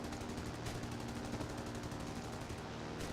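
Top turret machine gun of a Sunderland flying boat in War Thunder, firing a continuous rattling stream for several seconds against bombers, steady and unbroken under engine roar.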